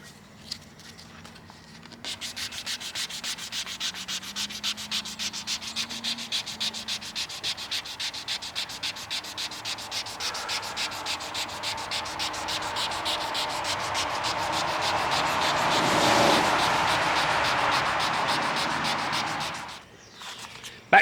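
Hand sanding with 600-grit paper to work out deep scratches, a steady rhythmic back-and-forth rasp that starts after a short pause, swells louder midway and stops near the end, close up with no talk.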